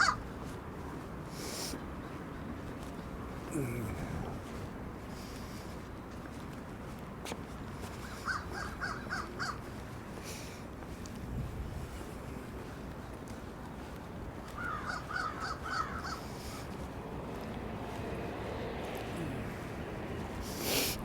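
Crows caw intermittently outdoors on a city walk from City Hall through the North End, short harsh calls rising in a few bursts over steady street ambience and footsteps.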